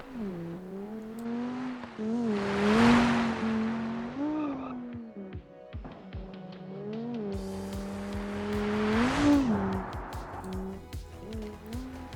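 Engine of an Audi Quattro S1 Group B rally car with a 2.1-litre turbocharged inline-five, simulated in BeamNG on a gravel hill climb, revving up and down through gear changes with rising, falling pitch and tire noise.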